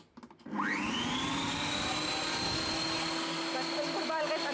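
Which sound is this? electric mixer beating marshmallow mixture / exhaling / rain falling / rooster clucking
electric mixer beating marshmallow mixture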